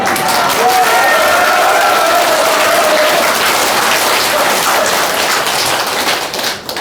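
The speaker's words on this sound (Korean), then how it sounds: "이왕이면 박수를 치실 때는 좀 세게 쳐주십시오." A large crowd at a conservative political lecture in Daejeon applauds loudly and steadily for about seven seconds, with dense clapping that fades slightly at the very end.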